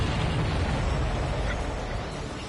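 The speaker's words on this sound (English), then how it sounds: "Did you see that explosion? Looks like that's one of them down." An enemy ship exploding in a flight combat video game, a broad, sustained roaring rumble that fills the whole clip at steady loudness.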